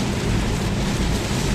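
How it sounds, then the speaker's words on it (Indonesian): Heavy rain pounding a car on a toll highway at speed, a dense, loud, unbroken hiss and roar of water and road noise with no gaps and no speech. "ini hujan derasnya di kilometer 647"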